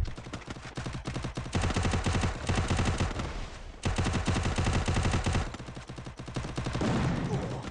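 Rapid bursts of automatic gunfire in a shooter video game, loud and close, sounding as dense rattling volleys separated by brief pauses, with a louder burst near the end.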